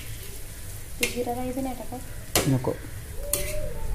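Masala being stirred and mixed in a sizzling pan for fish bhurji with onion, tomato and chilli, a steady frying hiss broken by three sharp scrapes of a spoon against the pan, with a voice speaking briefly.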